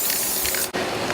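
Spray glue hisses steadily from an aerosol can as a whole piece is coated, a dense close-up spray broken by one short pause before resuming.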